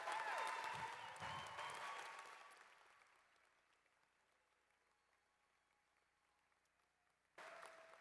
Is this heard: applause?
yes